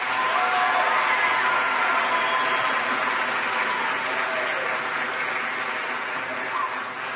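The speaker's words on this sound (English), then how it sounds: "Can we give them one more round of applause?" Audience applause after a school county orchestra concert, a continuous, full round of clapping with some cheering that holds steady and loud throughout, filling a large hall.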